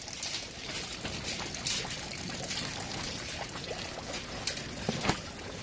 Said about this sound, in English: Strong, steady stream.